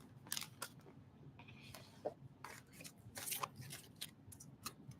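Tarot cards being shuffled by hand, a quick run of crisp riffles and snaps with soft slides between them, close and fairly quiet, with no talk.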